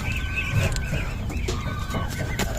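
A domestic hen clucks steadily up close in a farmyard, the calls coming in a continuous run with no one talking.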